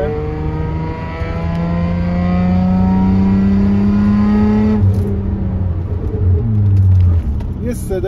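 A Hyundai Coupe FX fitted with a remote-controlled exhaust kit revs and drives, a loud droning engine note rising steadily in pitch, then dropping and surging again, with someone talking over it.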